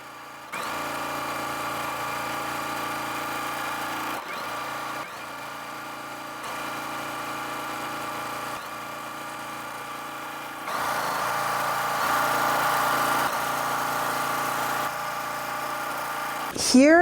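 A sewing machine stitches quilt block pieces together in a steady mechanical whir that runs for most of the stretch. It pauses briefly and restarts several times.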